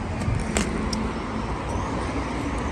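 A Peugeot 508 with a 2.0 BlueHDi diesel engine driving along, a steady close engine and road rumble with a few faint clicks.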